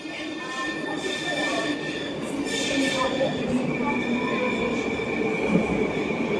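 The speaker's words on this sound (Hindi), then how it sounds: "ये देखिए, ये मेट्रो गई है यहाँ से," A metro train in Moscow rumbles past nearby with a continuous roar, high metallic wheel squeal ringing over the steady rolling noise.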